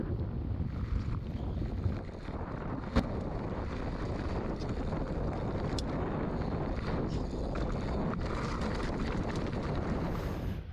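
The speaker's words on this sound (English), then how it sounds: "It's pretty windy." Strong wind blowing across an outdoor slopestyle trail, a steady loud broadband roar buffeting the microphone throughout with a few brief gust thumps and no talking.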